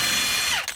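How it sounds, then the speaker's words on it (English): A Hercules brushless impact wrench rated at about 1,200 foot-pounds takes a car's passenger-side axle nut off in one loud, close, rapid hammering burst that winds down and cuts off within a second. "I am using a Hercules brushless impact drill, wrench, whatever."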